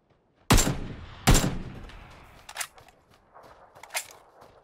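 PUBG gameplay gunfire: two loud, sharp shots close together ring out, followed by quieter, more distant bursts and scattered pops that decay into a faint rumble.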